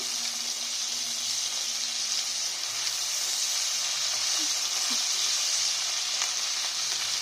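Ginger garlic paste frying with onions in a pan, giving a steady, even sizzle that runs unbroken at close range with only faint stirring touches and no voices.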